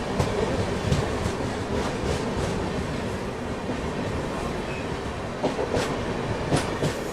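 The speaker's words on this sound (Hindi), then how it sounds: "गरीब रथ एक्सप्रेस बांद्रा टर्मिनस दिल्ली सराय रोहिल्ला।" The Garib Rath Express, running from Bandra Terminus to Delhi Sarai Rohilla via Ahmedabad, rolls past close by with a loud steady rumble and rhythmic clickety-clack of wheels over rail joints.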